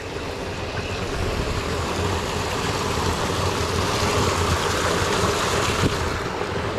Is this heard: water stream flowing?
yes